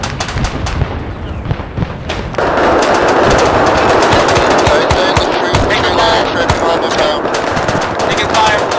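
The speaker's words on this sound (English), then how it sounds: "Taking fire from the right side of the village." Rapid bursts of machine gun fire crack through a Vietnam War firefight in the ArmA III video game, sporadic at first and then a dense, sustained clatter of automatic fire.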